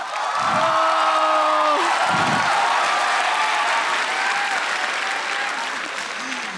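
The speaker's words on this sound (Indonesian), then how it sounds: "Sekali lagi boleh tepuk tangan buat Sadana Agung" An audience at an Indonesian stand-up comedy show applauds a comedian, a loud dense burst of clapping that fades slowly, with a host's voice briefly heard over it.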